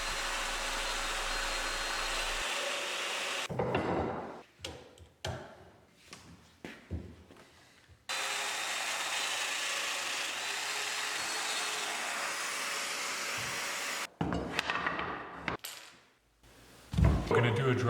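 A domino joiner cuts mortises in wood in several bursts: a sustained whining motor run, then short plunging cuts, another long run and more brief cuts, with handling noise between them.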